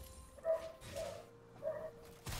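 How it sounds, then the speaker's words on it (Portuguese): A dog barks several times in the distance during a League of Legends game session, short faint yelps spaced about a second apart over a quiet background. "Tem um cachorro latindo."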